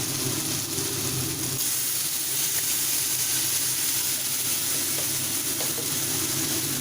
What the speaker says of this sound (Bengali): এবার আমি উপর দিয়ে দিয়ে দেব জল